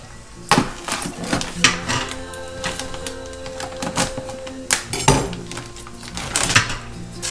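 Dishes clatter and clink in a sink, with irregular knocks of pots, utensils and a knife and running water between them, fairly close.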